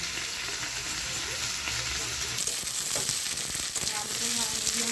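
Steady, loud sizzling fills the air as ingredients fry in a pan for a prawn curry with eggplant and potato, with a few soft stirring scrapes over the hiss.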